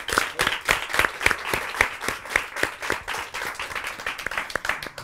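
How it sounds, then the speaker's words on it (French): Studio audience at a French talk show applauding, with sharp, steady clapping that holds at a lively, even level throughout. "on peut l'applaudir"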